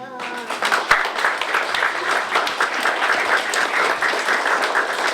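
An audience at a poetry night bursts into applause, dense and steady clapping from a roomful of people that swells quickly and holds for several seconds, with a few scattered whoops mixed in.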